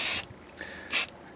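Short hissing bursts from a spray paint can used while restoring an Atari Pole Position arcade machine: one spray at the start and a second brief burst near the end, close and sharp, with a faint tone between.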